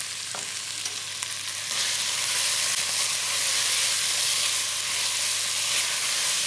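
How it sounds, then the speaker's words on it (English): Vegetables seasoned with sea salt sizzle steadily in a pan over medium heat, a continuous bright frying hiss that swells slightly after the first couple of seconds and holds, with no voices. "just going to cook those for a few minutes, making sure they don't catch too much"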